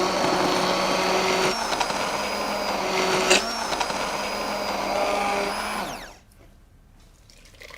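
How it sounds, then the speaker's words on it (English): Hand blender pureeing chicken and asparagus soup, a steady high motor whine with grinding texture running for about six seconds before cutting off abruptly to near quiet. "Now you can put this in a processor or you can use a hand blender."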